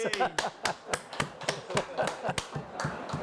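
Scattered audience claps at a live festival event in a cinema, a loose irregular burst of sharp hand slaps over about three seconds, with voices mixed in.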